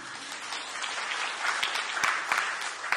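Congregation in a church service breaks into steady, dense applause that swells slightly toward the end, filling the room without speech on top.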